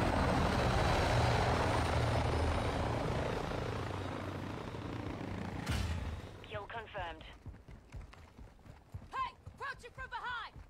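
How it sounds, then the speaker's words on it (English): A helicopter in a shooting video game roars with dense rotor and engine noise for several seconds, then fades out as players talk over it. "helicopter."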